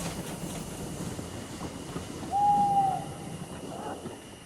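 James the engine pulling out of the yard gives a single clear whistle hoot midway, rising briefly above a steady low rumble of background noise.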